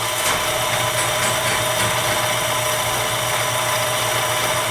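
Lathe turning stainless steel with a carbide diamond insert, a steady, loud, continuous machining whir with a constant hum and a faint high whine of the cut running unbroken throughout.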